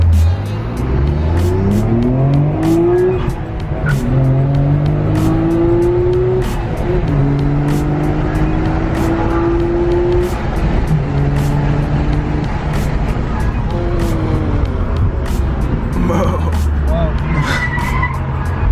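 Nissan Skyline R34 GT-R and R35 GT-R driving in Southern California, loud engines repeatedly revving up through the gears with rising and falling pitch, close and continuous.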